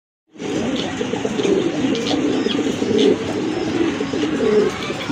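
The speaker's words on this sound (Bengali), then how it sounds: "বারহুমা কবুতর, অনেক বড় সাইজ" A pair of large Barhuma pigeons coo close by in repeated soft, throaty phrases over a steady low murmur of background noise, starting after a moment of silence.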